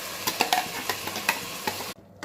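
Ground masala paste added to a pan of chicken sambar and stirred, giving a close, steady sizzle broken by repeated scraping clicks of the spoon, ending in a brief near-silent gap.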